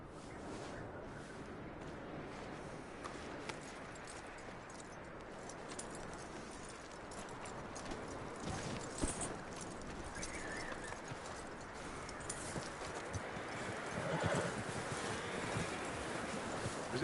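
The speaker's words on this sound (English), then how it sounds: "That looks like a decent horse." Horse hooves clip-clopping at a walk in the game Red Dead Redemption II, a steady rhythmic patter with light jangling tack and rustle, faint throughout; no clear neigh stands out.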